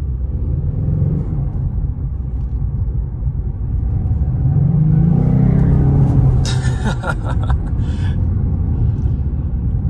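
A 2024 Ford Mustang EcoBoost four-cylinder engine revs up loudly with a rough, buzzy note, rising over steady road rumble, with a brief clattering burst near the end.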